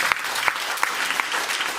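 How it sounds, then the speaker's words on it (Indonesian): Church service congregation clapping for Jesus, a steady sustained patter of many hands with a few sharper individual claps standing out, no voices. "Tepuk tangan bagi Yesus."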